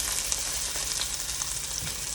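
Close, constant sizzling of meatballs frying in a hot pan, an even hiss dotted with small crackles and pops, heard alone without speech.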